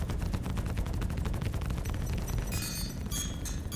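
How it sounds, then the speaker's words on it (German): Ship weapons fire in the space game Star Citizen, a loud, rapid stream of shots that gives way to crackling, booming impacts and explosions. "Na dann, Feuer frei."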